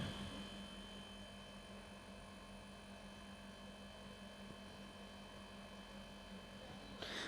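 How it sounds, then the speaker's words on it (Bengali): Faint, steady rotor drone of a helicopter in the distance on the route to Kedarnath, a continuous low hum with no voices. "আর অনবরত পাশ দিয়ে হেলিকপ্টার উড়েই যাচ্ছে উড়েই যাচ্ছে"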